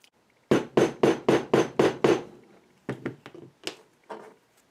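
A hammer striking an eyelet setting tool on a knee-high boot, six evenly spaced heavy thuds up close, then a pause and several lighter, irregular taps.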